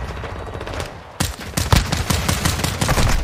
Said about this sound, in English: I'm mainly using the pistol.